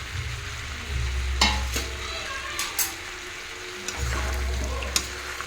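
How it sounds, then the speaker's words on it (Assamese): Chicken and potatoes fry with masala in a pan, giving a steady close sizzle with stirring scrapes and a few clinks of the spatula along the way. "এতিয়া ধুনীয়াকৈ ভাজিম যাতে গোটেই মছলাখিনি মাংসৰ লগত মিহলি হৈ যায়।"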